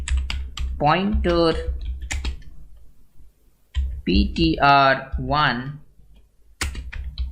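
Keys clatter in quick bursts as C code is typed on a computer keyboard, close and crisp, mixed with someone speaking continuously over the typing.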